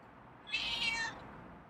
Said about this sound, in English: Got some nice meows today.